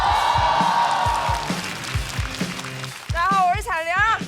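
A stand-up comedy show audience claps and cheers to welcome the next comedian, a loud roar of applause with whoops under a host's amplified voice, then excited shouting near the end.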